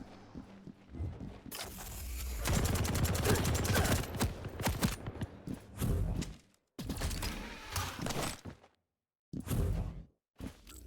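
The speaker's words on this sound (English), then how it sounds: "you have to respect that starting machine gun from Kelts" Rapid machine gun fire in the arena shooter Quake Champions, loud bursts of dense rattling shots coming in several runs with short gaps between them, mixed with other game effects.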